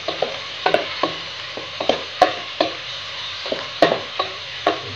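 Chopped vegetables fry and sizzle in a pan over a medium flame for Nepali chau chau noodles, with a steady hiss broken by repeated scraping stirs of a spoon, close and clear, with no talk.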